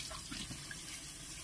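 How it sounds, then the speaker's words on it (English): Steady running tap water at a sink, with a clay mask being rinsed off, a continuous close splashing hiss throughout a brief moment. "I rinsed it off already."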